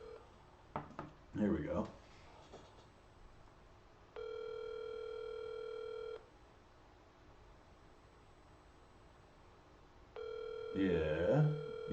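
Telephone call ringing out, with a couple of long steady ringback tones separated by silence, a few soft clicks at the start and a voice speaking before and after the rings.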